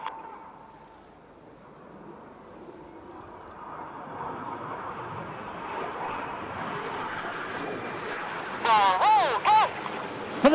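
Red Arrows jets fly barrel rolls and inverted passes at the Eastbourne Airshow 2022, a distant jet roar that swells steadily and fills the air, with brief whistling tones and faint voices near the end.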